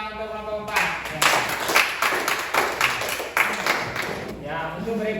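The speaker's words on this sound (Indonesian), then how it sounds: "sekarang kita tepuk tangan untuk kelompok 4" Group applause for a presenting team in a classroom teaching assessment: a few seconds of steady clapping from several people, with a voice speaking briefly before and after.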